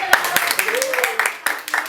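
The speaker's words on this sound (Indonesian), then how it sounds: "Kalau belum mau kasih dulu tepuk tangan" A small classroom group claps after a student presentation, a handful of sharp, separate claps close by while a voice keeps talking over them.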